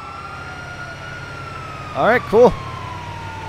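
Ambulance siren from Grand Theft Auto V, a steady sweeping tone in the background while a voice speaks briefly near the end.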